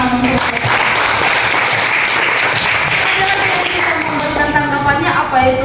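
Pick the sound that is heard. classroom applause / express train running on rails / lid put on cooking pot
classroom applause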